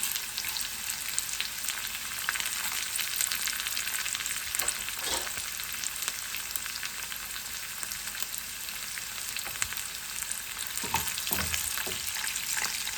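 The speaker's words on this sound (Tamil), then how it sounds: "இப்போ 1 டீஸ்பூன் உளுத்தம்பருப்பு பொரிக்கிறதுக்கும் போட்டுக்கொள்கிறேன்." Steady crackling sizzle of urad dal frying in hot oil for tempering, with a few stirring scrapes and pops, continuous and close with no talking.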